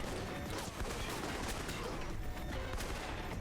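Rapid gunfire from the 2010 PC video game Alpha Protocol, a dense continuous fusillade of shots filling the whole moment at a steady, fairly even level.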